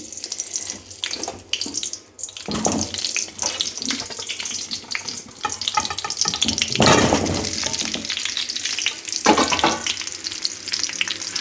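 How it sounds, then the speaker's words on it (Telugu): Whole Indian gooseberries (amla) are eased into hot sesame oil, bringing a loud, continuous bubbling sizzle that swells into sudden surges each time more fruit goes in. No one speaks. "ఇప్పుడు నువ్వుల నూనె కాగింది కదండి కాగిన తర్వాత ఇలా నాటు పెట్టుకున్న ఉసిరికాయలని నెమ్మదిగా ఇందులో వేసుకోవాలి"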